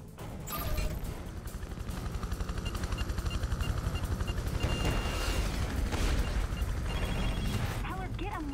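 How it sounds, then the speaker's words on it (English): Helicopters lifting off amid chaotic combat in the video game Prototype 2, with a steady rotor-like rumble running under dense gunfire and explosions for several seconds while a voice talks over it. "These helicopters are starting to lift off."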